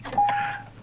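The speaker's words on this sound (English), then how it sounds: "I'm about to turn on my car again. You're gonna hear some beeps." A car chimes as it is switched on: one short, clean electronic beep at a single pitch, lasting about a third of a second over a faint background.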